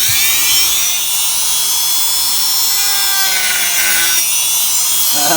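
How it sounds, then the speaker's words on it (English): A plastic center console box being trimmed out during a console swap, a loud continuous buzzing cut with a high-pitched whine that shifts pitch as the tool bites into the plastic, steady throughout with no talking. "So I'm gonna attempt to trim out the little box now."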